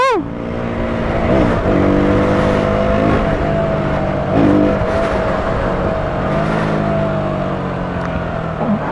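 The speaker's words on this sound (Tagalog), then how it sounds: "Ayan, traffic. Parang traffic" A steady, close engine drone with a few small swells holds through stop-and-go road traffic in Tagaytay, with jeepneys nearby and no clear voices.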